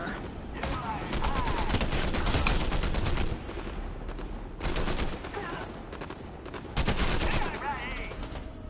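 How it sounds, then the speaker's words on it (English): Video game gunfire in long, loud automatic bursts separated by short quieter gaps, with a player talking over the action. "they're shooting at us"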